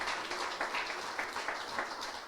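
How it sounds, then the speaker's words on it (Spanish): A church congregation gives applause to God, soft and somewhat distant, a light scattering of many hands clapping in uneven bursts for a couple of seconds. "vamos a dar ese aplauso a Dios"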